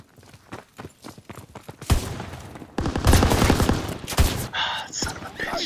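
Several shotgun blasts crack out in close succession, loud and near, amid a chaotic burst of noise following a scattered run of sharp sounds.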